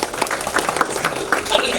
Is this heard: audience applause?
yes